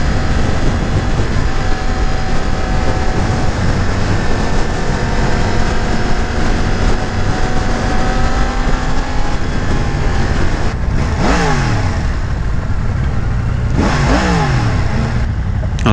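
A 2018 Yamaha MT-10 motorcycle is ridden with its engine droning loud and steady, rising in pitch, then two sharp revving bursts sweep up near the end, with wind roar throughout.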